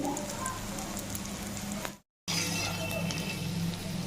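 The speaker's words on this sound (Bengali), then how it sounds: "এটি এখন একটু ভেজে নিচ্ছি" Spices and radish fry in a pan for a Bengali radish dish, a steady close sizzle and crackle with faint clinks, interrupted by a brief silent cut midway.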